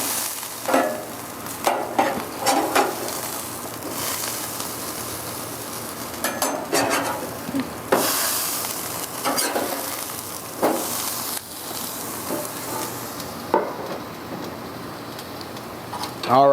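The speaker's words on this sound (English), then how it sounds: "they've been searing on the second side long enough" Burgers sear on an electric grill with a constant close sizzle, punctuated by repeated scraping and clattering of a spatula against the grill surface throughout.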